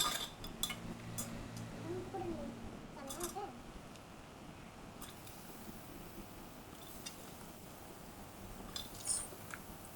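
A spoon scrapes and clinks against a pot as onion, green chili and pork bones are mixed together. The stirring clatter is faint and comes in irregular bursts over a low background hum.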